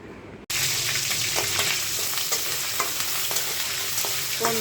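Shrimp frying in hot oil, a steady dense sizzle with scattered crackles and pops after an abrupt start, close and loud throughout, no voices.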